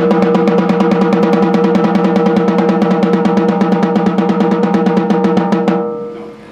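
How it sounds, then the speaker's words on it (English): Drumsticks play a fast, smooth single stroke roll on a snare with the snares thrown off, dozens of even strokes in steady rhythm at constant loudness, then a short ringing decay. "In order to do the single stroke roll, they need to be smooth and even."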